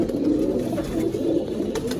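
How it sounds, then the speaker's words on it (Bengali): A domestic pigeon coos softly in a loft, a low throaty warble repeating through the short stretch with no voices. "এটা কি ঘরের পায়রা?"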